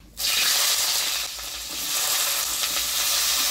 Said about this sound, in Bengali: এবার বেগুনটা দিয়ে দিচ্ছি।